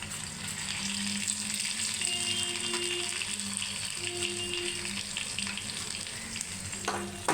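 Dried red chillies, cumin seeds and garlic sizzle steadily in hot oil in a pan, a continuous close frying hiss with occasional faint stirring scrapes and no talking.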